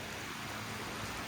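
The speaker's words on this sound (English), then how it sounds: "Sunday morning, early, pouring down rain." Heavy rain pours down steadily early on a Sunday morning at a foundry, a dense continuous hiss with no breaks.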